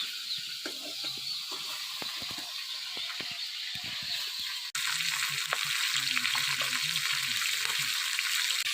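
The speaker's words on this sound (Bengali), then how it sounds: "মাছের মাথা ভাজা হয়ে গেছে, এবার তুলে নেবো।" A catla fish head fries in oil, which sizzles and crackles steadily, with occasional clicks and clatter; the frying grows louder and denser about halfway through.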